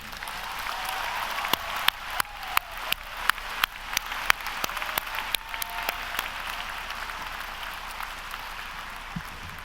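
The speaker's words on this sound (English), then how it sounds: "one more round of applause for every graduate" Graduates at a university commencement ceremony receive a round of applause from the crowd: a steady wash of clapping with sharp individual claps standing out near the front, continuing evenly for around ten seconds.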